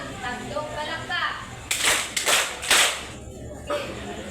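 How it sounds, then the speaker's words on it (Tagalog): Three quick claps from schoolchildren in a Filipino classroom, sharp broadband bursts in an even rhythm, following a stretch of children's chatter and classroom noise. "Bigyan niyo siya ng 3 palakpak."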